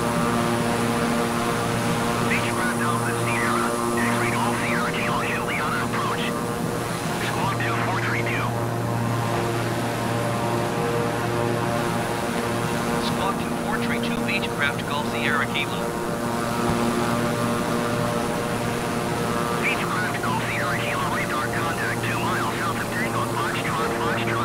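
The steady turboprop engine drone of a Beechcraft King Air in Microsoft Flight Simulator 2020 hums continuously with a tonal whine. Radio-style speech passes over it in several bursts.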